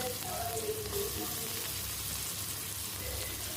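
Chopped onion sizzles gently in hot oil with whole spices for a Bengali katla fish kalia: an even, continuous frying hiss with no break, heard close up.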